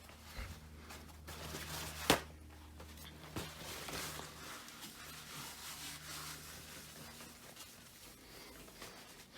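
A cloth wipes polish off aluminium motorbike forks on a Yamaha XV1900 Stratoliner, soft repeated rubbing strokes at low level with one sharp click early on.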